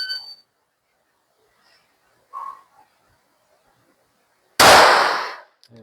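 A pistol shot at a 2x2 metal target from 15 meters: one sharp, loud report near the end, preceded by a brief clang-like ring and quiet moments.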